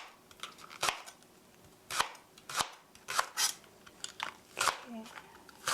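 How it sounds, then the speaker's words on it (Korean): Knife chopping half a green onion into thin rounds on a cutting board for pear fried rice, sharp irregular cuts spaced about a second apart, close and clear. "이렇게 해서 송송송 썰어 주시고요"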